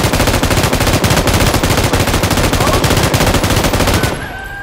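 Rapid automatic gunfire from the battle royale game PUBG, loud and sustained as a dense continuous burst for about four seconds before cutting off abruptly into quieter game ambience.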